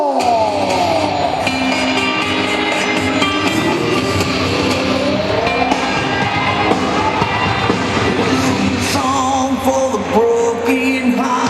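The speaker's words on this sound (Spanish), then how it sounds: "Un aplauso muy fuerte para Rubén" A boxing crowd at an event in Pontedeume applauds and cheers a fighter being introduced, a loud, continuous roar of clapping and voices filling the whole stretch, with a whistle-like tone sweeping through.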